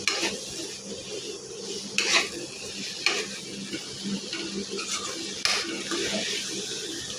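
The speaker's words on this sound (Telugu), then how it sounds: "బెండకాయ ముక్కలు బాగా వేగేలాగా మొత్తం మిక్సింగ్ చేసుకోవాలి." Okra pieces with turmeric are stirred and fried in a pan, with a steady hiss of frying under intermittent clinks and scrapes of a utensil against the metal, close by.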